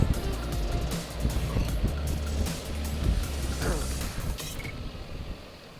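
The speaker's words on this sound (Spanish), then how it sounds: "es una barbaridad lo que suena, porque lleva un Arrow y con el DB Killer" A motorcycle with an Arrow exhaust and a dB killer fitted gives a steady, loud, close engine rumble throughout, with no talk over it.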